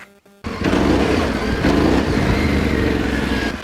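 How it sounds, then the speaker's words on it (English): A Yamaha Tenere 700 adventure motorcycle engine jumps from a quiet idle into a loud, sustained roar as the throttle opens, holding a steady rumble close by. "the first thing is opening and closing the throttle"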